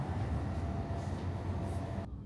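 Inside a Chinese bullet train running at full speed, a dense low rumble and rushing roar of rail travel fills the cabin steadily, ending with a brief drop in the higher hiss.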